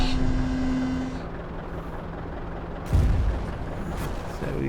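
Tank cannon fire in the World of Tanks video game: a sharp boom near the three-second mark over a steady mechanical rumble of the tank, with an earlier engine hum that cuts off.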